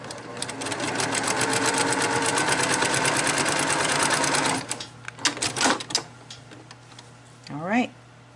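A sewing machine runs steadily for about four and a half seconds, stitching a diagonal quilt binding seam corner to corner, then stops, followed by a few light handling clicks and a short rustle of fabric.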